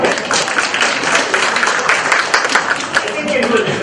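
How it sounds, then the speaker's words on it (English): An audience at a talk on the art of communication breaks into enthusiastic applause, a dense, steady wash of clapping that fills the room, with a voice speaking over it. "Again, with a very enthusiastic applause, please."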